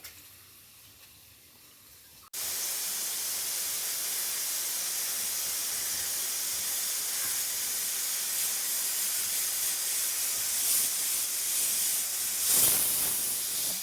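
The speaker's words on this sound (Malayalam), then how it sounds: "പരിപ്പിനിപ്പം 3ാമത്തെ വിസിലാണ്." A pressure cooker cooking dal lets off its whistle: after a short quiet start, a loud sustained jet of hissing steam bursts out and holds steady for over ten seconds without a break.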